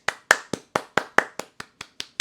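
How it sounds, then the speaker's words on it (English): Hands clap about ten times in a steady rhythm, close and crisp, for Nick Chubb, with no voices over the claps. "Clap it up for Nick Chubb."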